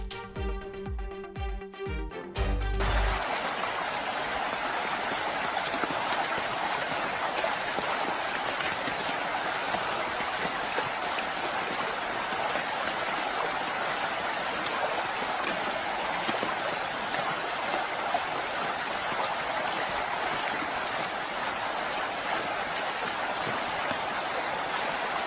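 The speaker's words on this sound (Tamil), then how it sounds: "ராமேஸ்வரம் அருகே பாம்பன் பாலத்தில் பகலில் இருள் சூழ்ந்து மழை பெய்தது." Heavy rain pours steadily on the Pamban bridge near Rameswaram, a dense, even hiss that holds for over twenty seconds after a brief burst of other sound at the start.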